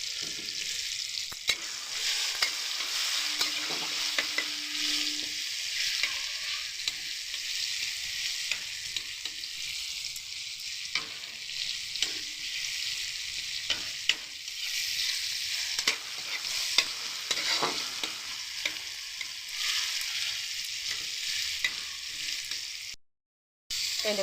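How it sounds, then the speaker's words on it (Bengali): Tomatoes with salt and turmeric fry in a pan while being stirred: a continuous close sizzle with scraping and knocks of the spoon, running on for a long stretch before a short dropout near the end. "ভালো করে একটু ভাজা ভাজা হয়ে যাক"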